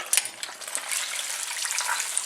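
Fried chicken sizzling in a deep fryer, a bright hissing crackle of hot oil with scattered pops and a few light clinks, steady and close.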